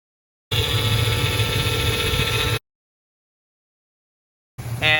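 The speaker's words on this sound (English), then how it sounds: "And here's what the engine sounds like now." A 1994 Astro Van engine idles after an idler pulley repair, a loud, steady running drone for about two seconds, then abrupt silence before it picks up again near the end.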